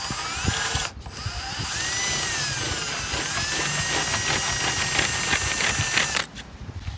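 A power drill with a half-inch bit bores into a carved wooden nameboard during restoration. Its steady motor whine runs for several seconds between short pauses, with light mechanical clicking underneath and no talk.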